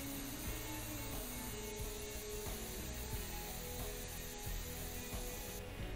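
A steady, close hiss of an airbrush spraying paint continuously, broad and even, with faint mechanical clicks underneath.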